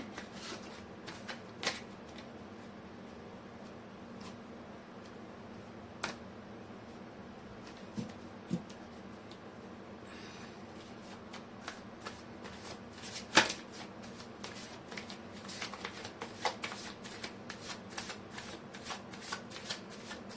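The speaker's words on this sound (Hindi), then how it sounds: "मैं कर लेती हूँ कार्ड की शफलिंग।" Tarot cards being shuffled by hand, long stretch of soft repeated riffling and tapping bursts close by over a faint steady hum, with no talking.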